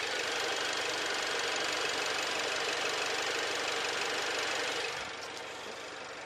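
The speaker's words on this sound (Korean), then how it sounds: "바로 엔진 소리 한번 들려드릴게요." Hyundai Santa Fe gasoline engine, a 2018 model, idling with the hood open; a steady, even mechanical hum with fine ticking texture, close and continuous, no talk.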